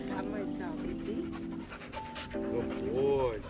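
A hound dog pants rapidly and steadily nearby while people talk over the sound.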